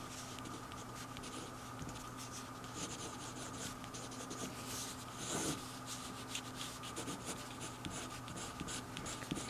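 Pencil lead writing on cheap watercolor paper, a close, quiet continuous scratching with short strokes and rubbing, recorded intimately with no talking.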